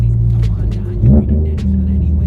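A 2018 Subaru STI with about 450 whp revs briefly as the gas is pressed, a short, close surge out of a steady idle rumble that settles back down.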